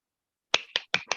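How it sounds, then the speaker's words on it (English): Four sharp hand claps in quick succession, close and fairly loud, heard alone without talk during an online meeting. "Unmute and you can clap your hands."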